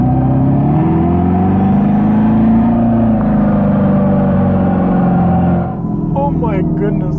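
A 2024 Dodge Charger Daytona Scat Pack, electric, pulls hard at full throttle with a rising synthetic exhaust drone and whir heard from inside the cabin, then eases off near the end.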